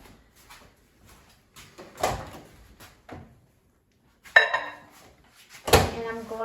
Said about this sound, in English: And now let's put the mug in the microwave.